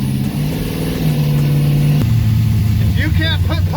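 A car engine idles and revs briefly, a steady low drone with a pitch shift midway, heard up close from inside the car.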